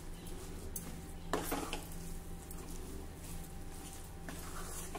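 A spoon stirs a sweet mixture with ghee and cardamom powder in a pan, giving soft scraping and clinks over a low steady sizzle, with a couple of sharper metal knocks midway, close and without talk.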